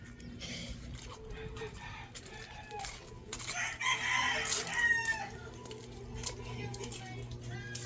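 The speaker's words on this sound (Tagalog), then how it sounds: "Grabe mga manok eh, ingay." Chickens and a rooster in a Philippine home setting, clucking and crowing loudly at close range over a steady background hum, with people talking nearby.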